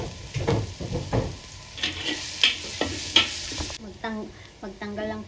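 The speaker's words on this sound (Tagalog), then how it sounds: "igisa na natin yung sibuyas at saka garlic" Onion and garlic sauté in a pan with a bright, steady sizzle and a few stirring taps. The sizzle cuts off near the end and a voice talks briefly.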